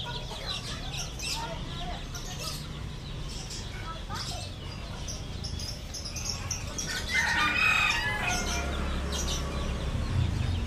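Chickens at a Bali animal market clucking and crowing amid a busy, noisy crowd, with other birds and people talking around them.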